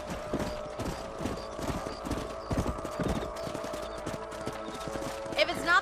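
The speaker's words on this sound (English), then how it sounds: "Let's get back on the horses" Horse hooves clip-clopping in Red Dead Redemption, a steady rhythmic trot of several riders close by, with a brief whinny near the end and speech faintly beneath the hoofbeats.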